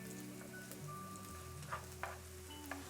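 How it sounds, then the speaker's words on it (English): Onions frying in a pan on high heat, a soft steady sizzle with occasional light ticks and pops, faint and close beneath a low background hum. "The heat is on high and we are just cooking until the onions, of course, get softer."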